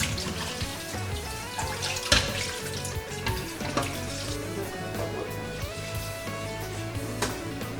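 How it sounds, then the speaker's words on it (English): Water streams steadily into a cooking pot on a busy home stovetop setup while preparing abula, a continuous close splashing pour with no talking over it. "Into that pot, I'm going to add water."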